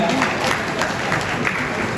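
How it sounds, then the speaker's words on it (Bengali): A studio audience claps during a televised sports chat show about the 2022 World Cup, producing a dense, even patter of applause over two seconds with voices talking over it. "একটু হাততালি দেন"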